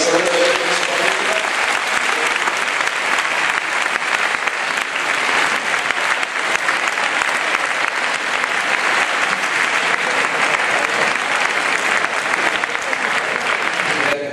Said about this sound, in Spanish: Le damos un aplauso a Belén.